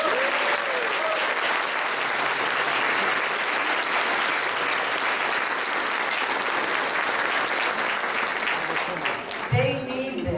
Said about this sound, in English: I want you to give them applause right now.